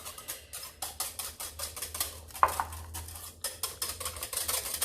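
Egg being lightly beaten with melted butter, vanilla, milk and buttermilk in a bowl for muffin batter, a rapid, even series of close whisk or fork clicks and taps against the bowl, continuing without pause.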